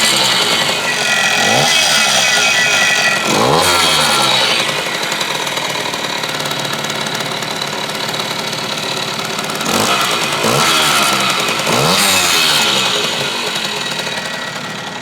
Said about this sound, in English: Holding the transmitter down here close to the engine so you can kind of hear it